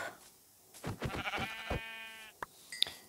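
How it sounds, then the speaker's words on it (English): Sheep in the Minecraft video game bleat a few times in close succession, clear and fairly near, followed by a couple of short clicks. "A sheep."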